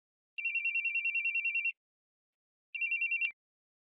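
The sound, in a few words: telephone ringing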